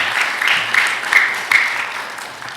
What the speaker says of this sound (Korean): 여러분 박수 한번 해주세요